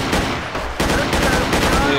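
Dense automatic gunfire from a Black Hawk Down mod for Battlefield 2, loud rapid bursts packed close together across the whole stretch, with a short dip in the middle.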